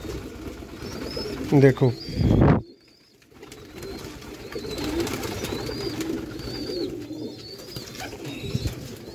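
Teddy pigeons coo in soft repeated calls, and someone speaks briefly over them near the start before the cooing continues on its own.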